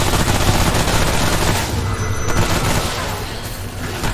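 Submachine gun fire in the video game Remnant: From the Ashes, dense continuous rapid shots with heavy booming impacts, loud and sustained through the whole stretch with no speech.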